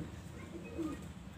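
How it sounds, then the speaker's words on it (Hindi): A pigeon in a pigeon loft gives a soft, low coo, brief and fairly faint against a quiet background. "एक कबूतर बैठा हुआ है"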